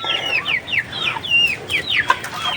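A Rhode Island Red hen clucks in a quick series of short, rising calls, close by and clear, with no voices over them.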